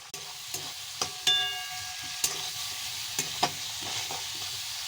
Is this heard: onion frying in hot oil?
yes